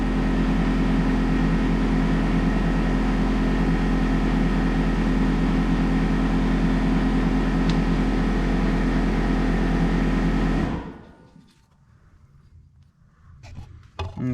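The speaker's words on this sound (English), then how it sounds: "I had the air compressor on." An air compressor runs steadily in a workshop during disassembly of a Yamaha Moto 4 ATV, a loud continuous low drone that cuts off abruptly near the end, leaving near-silence.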